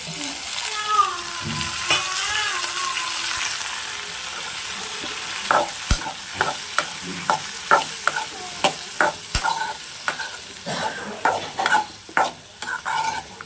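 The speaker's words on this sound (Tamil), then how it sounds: "இப்போ ஓரளவுக்கு நல்லா வதங்கிட்டு இந்த நேரம் வந்து நம்ம தக்காளி சேர்த்துக்கலாம்" Garlic and tomatoes sauté in a pan for a spicy garlic chutney, with a steady close sizzle and a run of sharp, rhythmic scraping taps from a utensil stirring through the second half.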